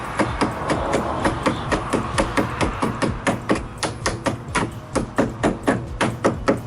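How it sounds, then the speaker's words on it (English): A hammer gently taps a battery connector down onto the terminal of a Dodge Dakota, giving a steady run of many close, crisp metallic knocks at an even rhythm with no talk. "you'll probably have to have a hammer or something and gently tap this down"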